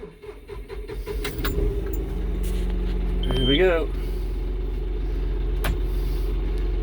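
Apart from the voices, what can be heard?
tractor engine starting after key turned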